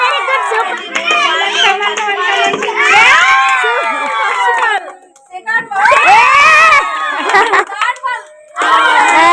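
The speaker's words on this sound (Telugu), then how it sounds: "చప్పట్లు." Children shout and cheer loudly at a New Year's Eve party with dance, games and cake cutting, in excited bursts with overlapping voices and brief lulls between them.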